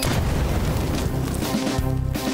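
A booming explosion in the video game Small Saga, a dense, loud burst that rumbles and crackles for a couple of seconds, heard without any talk over it.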